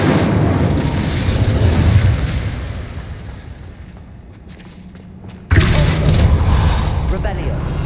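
A loud, roaring whoosh of the Incendio fire spell in the Hogwarts Legacy video game dies down, then a sudden fiery burst flares up again amid game ambience.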